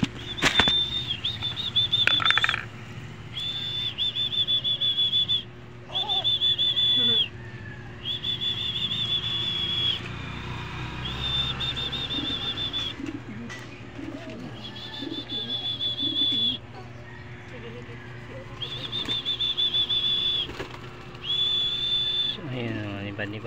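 Pigeons are released and flap their wings in flight, in several bursts of wingbeats and cooing, while a steady high whistling tone recurs in segments and someone talks quietly.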